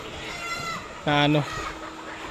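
Chickens being unloaded in large numbers from trucks, giving a loud, close burst of clucking squawks in the middle of the clip over a steady background of more distant fowl, with some speech mixed in.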